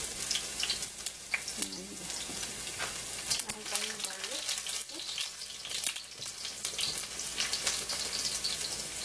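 Garlic sizzles and fries in a pan at home, a steady crackling hiss with spatters throughout, while a person talks over it.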